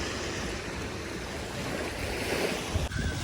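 Sea waves on a beach in Odesa in April make a steady, broad wash of surf with wind noise across the microphone. The sound is continuous and close, with no voices.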